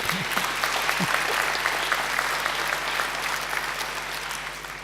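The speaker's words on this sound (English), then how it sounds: "give them a round of applause, that's it" Applause from a graduation ceremony crowd fills the hall as a dense, steady patter of many hands, with a brief voice audible near the start before the clapping slowly tapers.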